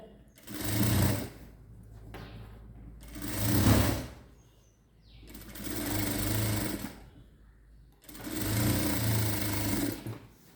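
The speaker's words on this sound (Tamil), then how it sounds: "இதை அப்படியே தைச்சிட்டு வரைங்க வரிசையில்" A sewing machine stitches a 42-inch straight-cut blouse in four steady whirring runs of a few seconds each, close and clear, with short pauses between them.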